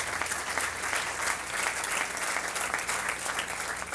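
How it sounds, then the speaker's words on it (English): Audience applause at the outdoor groundbreaking ceremony for the Spy Museum at L'Enfant Plaza: a dense, steady wash of many hands clapping at even loudness throughout, with no voices over it. "Give him a big round of applause."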